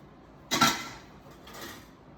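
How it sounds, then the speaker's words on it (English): A wooden spoon stirs buttercream made from doctored boxed cake mix in a bowl, giving one brief scraping knock followed by a softer, fainter scrape about a second later, close by in a quiet kitchen. "So, regular wooden spoon, and you're just gonna stir it around."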